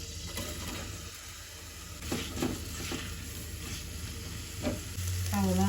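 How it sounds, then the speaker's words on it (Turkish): Onions sizzle steadily in a hot pot while a utensil scrapes and stirs now and then; the frying hiss runs throughout. "Etleri çıkardığımız tencerenin içine soğanlarını ilave ediyoruz"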